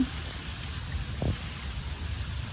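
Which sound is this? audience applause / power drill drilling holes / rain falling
rain falling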